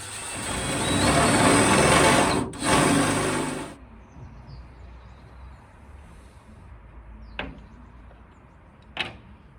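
A step drill whines loudly for several seconds cutting a hole in a narrowboat exterior, briefly stopping once, then cuts off; two sharp clicks follow in the quiet afterward.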